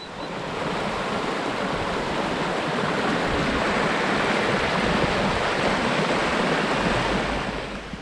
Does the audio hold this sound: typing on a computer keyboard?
no